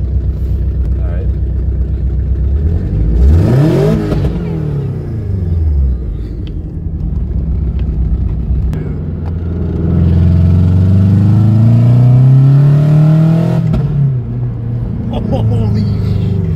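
A Mazda Miata NB engine revs loudly over a steady rumbling idle, with a rising sweep early on and a longer held rise near the middle, while people talk nearby.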